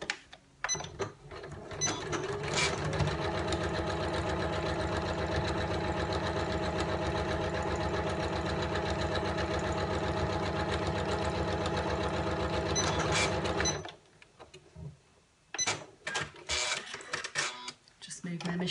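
A domestic sewing machine stitches a 1/4 inch seam on a small fabric tissue pocket holder, a steady loud rapid mechanical whir lasting about eleven seconds, framed by handling clicks and fabric rustle before and after.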